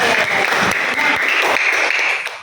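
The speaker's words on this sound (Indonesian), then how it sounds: "Tepuk tangan." A class of students claps together in a short, lively burst of applause that tapers off at the end.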